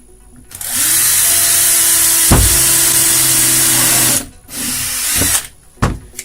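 A power drill bores holes through a flattened metal tube for an articulated lamp, running in a loud, steady whine for several seconds, stopping briefly, then a shorter burst and a final quick pulse.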